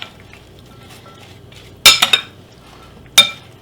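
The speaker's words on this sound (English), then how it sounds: "I'm going to go ahead and give this a stir." Cucumber and tomato salad with lemon being stirred in a bowl, quiet scraping with a few sharp clinks of a utensil against the bowl in short bursts.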